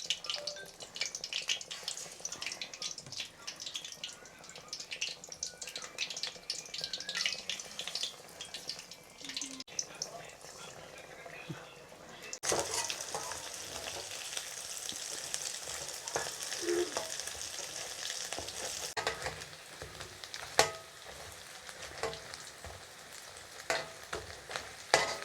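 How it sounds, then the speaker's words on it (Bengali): Besan-battered potato chops deep-fry in a kadai for alur chop, giving a continuous bubbling sizzle, quieter at first and then louder and fuller partway through. "এখন এগুলো আমি এভাবে নিয়ে বেসনে ভালোভাবে ডুবিয়ে কড়াইয়ে দিয়ে"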